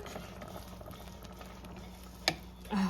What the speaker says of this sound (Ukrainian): ще, може, хвилин 5 дамо йому покипіти